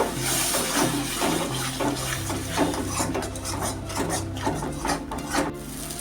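Masala with tomato paste, for a potato curry, stir-fried in a pan: a close, continuous rhythm of spatula scraping and rasping against the pan with a soft sizzle underneath.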